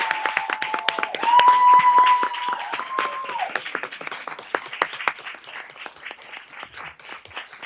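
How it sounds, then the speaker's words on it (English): People at a school board meeting give a standing round of applause, scattered, uneven claps that swell then gradually thin out, with a little talk and a faint tone underneath. "we need to give her a round of standing applause."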